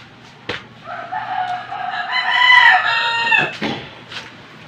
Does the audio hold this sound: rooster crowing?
yes